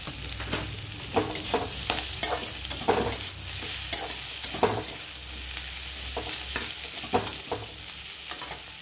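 Taro and kawoi fish fry with chili powder in a pan, a continuous loud sizzle broken by regular scraping strokes of a stirring spatula close by.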